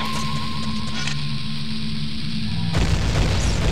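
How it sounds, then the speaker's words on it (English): A bomb goes off in the Dodongo's Cavern dungeon of The Legend of Zelda: Ocarina of Time, a sudden loud low boom and rumble breaking in near the end over steady game music and ambience. "What you want this to do is blow up right in the middle so both sides will explode."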